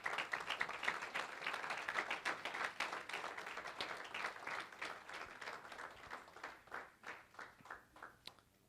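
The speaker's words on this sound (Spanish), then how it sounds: "Denle el aplauso al Señor." Congregation applauding at a church service, a steady wash of many hands clapping that gradually thins and slows toward the end, with scattered individual claps standing out.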